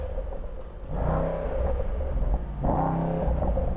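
A BMW-type car in sport mode, its engine rumbling low and swelling twice into short revs with a burbling exhaust, heard up close with no one speaking.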